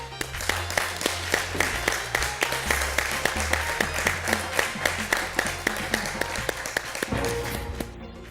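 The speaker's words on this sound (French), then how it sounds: "Et on peut vous applaudir." A studio audience on a cooking competition show claps in a steady rhythmic beat over low background music, the regular claps running for several seconds before the music shifts and the clapping fades out.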